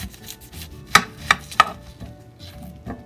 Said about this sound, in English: Now we are going to cut the end of our onion.